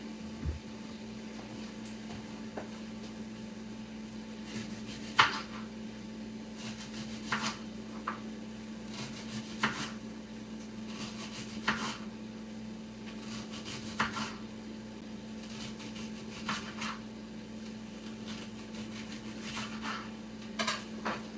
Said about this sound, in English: let me hurry up and slice up these onions